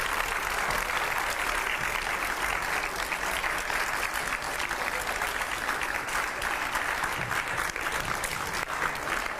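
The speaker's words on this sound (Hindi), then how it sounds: "उमा भारती जी का जोरदार तालियों से स्वागत करते रहिए आप।" A studio audience gives loud, steady applause to welcome former cabinet minister Uma Bharti, a dense even wash of clapping that holds without a break and has no talk over it.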